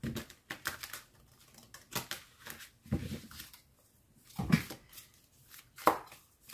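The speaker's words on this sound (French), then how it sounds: "je vais déjà mélanger les cartes" Tarot cards are shuffled by hand in a series of short, irregular riffling and slapping bursts separated by quiet gaps. Soft and close, with no talking.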